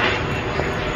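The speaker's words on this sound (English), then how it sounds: "Oh look, a plane over Disney." An airplane passes over Disney World in Florida, its engine roar a steady broadband wash throughout the brief moment.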